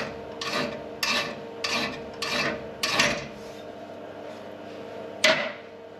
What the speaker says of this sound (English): working down the high spots with a file